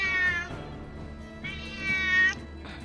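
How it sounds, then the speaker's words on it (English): A house cat meows loudly and insistently, two long drawn-out wailing calls close by with a shorter one starting at the end, over a low background hum. "My cat likes to be very loud."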